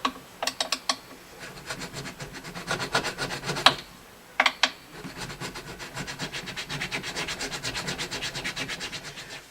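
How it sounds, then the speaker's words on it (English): Guitar frets being sanded by hand with 300-grit paper make close, rhythmic rubbing strokes: a few separate swipes, a short pause, then a long run of quick, even back-and-forth passes. "go all the way down with the 300 grit"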